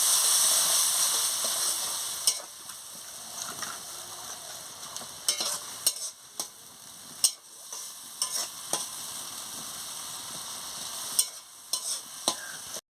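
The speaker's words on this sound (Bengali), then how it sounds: "টমাটো কুচিটা দিয়ে দিচ্ছি, দিয়ে একটু সামান্য জল দিয়ে মশলাটাকে ভালো করে কষিয়ে নিচ্ছি" A pan of masala with chopped tomato and a splash of water sizzles steadily while a spoon stirs and scrapes it, with repeated sharp clicks against the pan and no talking.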